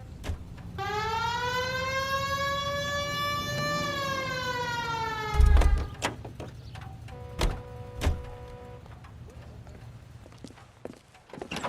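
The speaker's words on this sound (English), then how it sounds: "Hit the siren." Police car siren in the video game L.A. Noire, a rising wail that holds steady for several seconds before cutting off, followed by scattered thuds and short tones in a quiet scene.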